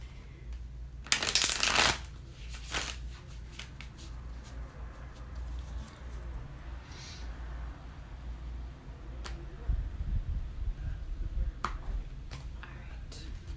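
A deck of tarot cards shuffled by hand, with a brisk riffling burst near the start followed by softer, scattered card flicks and handling noises at close range.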